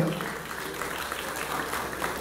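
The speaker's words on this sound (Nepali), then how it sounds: "सबैजनालाई एकपल्ट जोरदार ताली लगाइदिनु होला।" A crowd at a Gurung culture film premiere in Hong Kong claps steadily and densely throughout, a continuous wash of applause with voices mixed into it.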